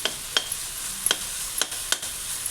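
Whole spices such as peppercorns, coriander seeds and cumin being dry-roasted and stirred in a pan, with a soft steady sizzle and scattered light clicks of seeds and spoon against metal.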